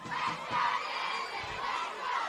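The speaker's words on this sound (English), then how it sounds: "UNSW crowd fire up as their girls go on the charge" UNSW supporters at a women's football match, the Sapphire Cup Final against Manly United, roar and shout steadily from the stands, a dense crowd noise swelling in waves over about two seconds.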